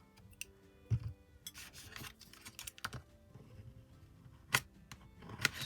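Nail polish is scraped across a metal nail stamping plate with a series of short, close rasping strokes and scrapes, separated by quiet gaps.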